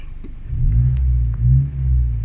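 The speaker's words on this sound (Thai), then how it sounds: "ลองเหยียบคันเร่งฮะ" A car engine fitted with an aftermarket Boost Speed Next throttle box (14 adjustable levels) revs up twice in quick succession, a deep low rumble swelling and easing, heard close with no talk.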